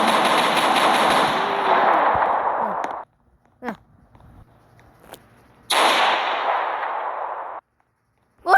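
Gunfire in the Roblox game Brookhaven: two long, loud, rapid-fire bursts with a few isolated single shots in the quiet gap between them.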